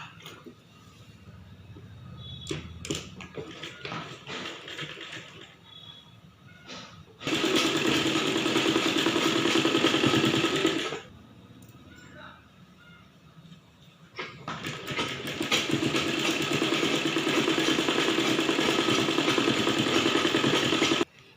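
A sewing machine stitches a skirt onto the bodice of a baby's frill frock, running in two long, loud bursts of rapid rattling separated by quieter handling noises.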